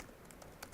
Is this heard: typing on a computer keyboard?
yes